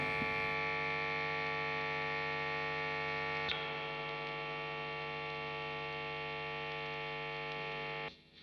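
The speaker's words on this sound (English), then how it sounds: "there's quite a bit of cycle hum in those pickups and the neck and the bridge" A steady electric hum from electric guitar pickups, a strong buzzing cycle-hum drone, constant and fairly quiet, with a single faint tick partway through before it cuts off.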